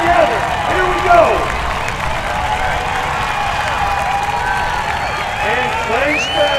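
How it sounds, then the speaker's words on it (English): Crowd at a girls' 3200-meter invitational track race cheering and applauding runners on, a steady wash of clapping and shouting voices with swelling yells, loud and continuous throughout. "the crowd is on their feet helping out"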